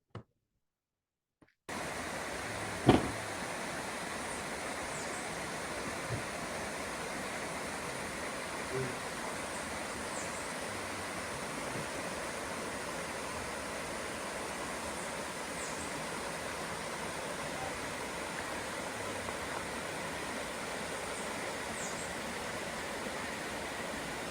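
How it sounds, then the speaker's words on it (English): A river flowing near a broken bridge makes a steady, even broadband rush of water, moderately loud and unchanging throughout, after a short silent start and one brief knock. "So this is what the river sounds like."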